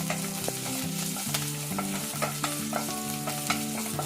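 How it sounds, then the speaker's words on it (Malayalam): Ginger, green chilli and garlic stir-fried in a pan for a Kerala-style chicken thoran, a constant crackling sizzle with repeated spoon scrapes, while soft background music plays underneath. "ഇനി അതിലേക്ക് ഇഞ്ചി ഇട്ട് കൊടുക്കുന്നു, പച്ചമുളക് ഇട്ട് കൊടുക്കുന്നു, വെളുത്തുള്ളി ഇട്ട് കൊടുക്കുന്നു. ഇത് നമുക്കൊന്ന് മിക്സ് ചെയ്യാം."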